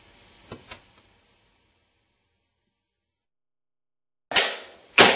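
A modified Steyr AUG bullpup rifle with ambidextrous side-ejection fires .223 shells: two loud, sharp reports about half a second apart near the end, after two faint pops and a long silence.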